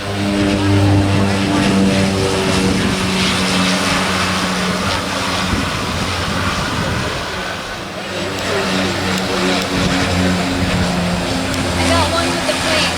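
An airplane takes off on a trip to St. Martin, its loud engine roar droning steadily throughout while people talk excitedly over it.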